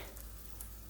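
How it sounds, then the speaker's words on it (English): Brown rice and salmon pieces frying in a pan are stirred, making a soft steady sizzle with faint scraping, quiet and without talk. "Now we're gonna go ahead and stir."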